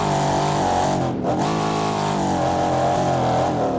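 A 730-horsepower light utility vehicle in the BeamNG video game, set to sport mode and climbing a hill, with a loud, sustained engine roar that rises and holds steady, close and continuous.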